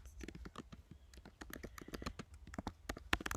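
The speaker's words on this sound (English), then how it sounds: "I've gotten better with typing and talking." Rapid, uneven keystrokes tap on a computer keyboard, close and quiet, with no voices.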